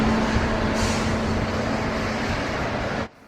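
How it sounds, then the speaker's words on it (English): OO gauge model coal train being pulled forward on a layout near a loading bunker, a steady continuous rumble with a faint sustained hum throughout, cutting off abruptly near the end. "The train is then pulled forward for a second drop."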